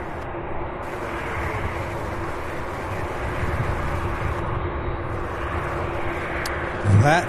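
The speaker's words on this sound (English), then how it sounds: "You can really hear the engines on these things." Jet engines roar steadily from an MD-11 airliner during takeoff, a broad continuous rumble that builds slightly before a closer burst of noise at the end.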